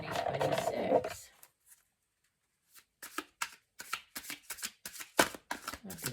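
Tarot cards are shuffled in quick riffling bursts, a series of crisp rapid slaps and flutters after a short burst of noise and a pause, fairly close and moderately loud.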